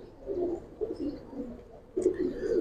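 Giribaz and colouring pigeons cooing close by, soft low throaty coos in short repeated rolls, with a brief higher sound in the middle of the sequence.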